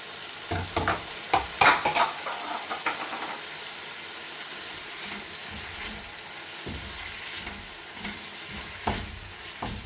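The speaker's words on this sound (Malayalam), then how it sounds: "ഇനി ഇതിലേക്ക് നമുക്ക് ഈ വേപ്പിച്ച് വെച്ച ബീഫ് ഇട്ട് കൊടുക്കാം." Cooked beef tipped into a frying pan with wilted onions and stirred, loud scraping and clattering at first, then a steady sizzle with occasional stirring knocks.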